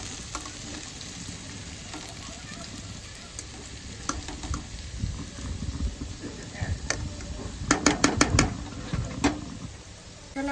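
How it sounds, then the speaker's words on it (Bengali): Potatoes fry in a pan at home, a steady sizzle with stirring scrapes that grows busier and louder toward the end. "এখানে আলু ভাজা হচ্ছে"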